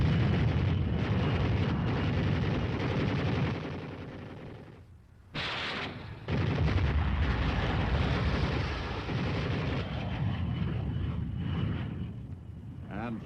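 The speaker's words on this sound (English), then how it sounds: "The next flight uses machine guns and rockets." Aircraft machine guns and rockets hit dug-in enemy positions in a dense, sustained roar of gunfire and blasts. Narration runs over the barrage, which dips briefly before resuming at full force.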